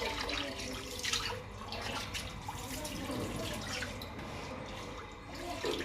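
Water gushes steadily from a pipe, a close, continuous splashing flow with slight surges and no talking.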